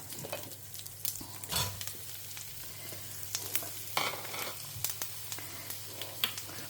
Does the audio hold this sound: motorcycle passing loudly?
no